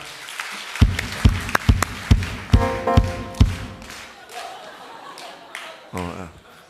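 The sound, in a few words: congregation applauding to welcome a newcomer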